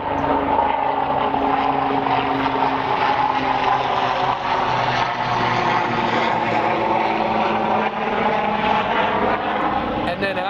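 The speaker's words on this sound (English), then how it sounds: "hello helicopter." A loud, steady rotor-and-engine drone overhead, its pitch sliding slowly as the aircraft passes, filling the whole stretch without a break.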